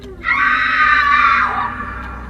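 A single long, high-pitched human scream in a dark nightmare scene, loud and close, held for over a second before trailing off into a low background rumble.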